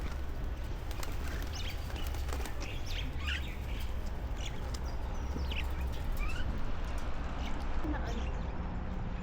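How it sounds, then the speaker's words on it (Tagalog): Many birds chirping at Kok Tobe in Almaty, Kazakhstan: scattered short tweets and calls over a constant low outdoor hum, fairly faint and somewhat distant, with no talk. "Daming ibon."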